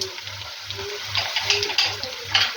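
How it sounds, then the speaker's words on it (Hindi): Whole spices, including bay leaves and a broken cinnamon stick, fry in hot oil for a chicken yakhni pulao, giving close, crackling sizzle with repeated bubbling bursts and no talk. "दालचीनी की 1 स्टिक को हम तोड़ के यूँ डाल देंगे।"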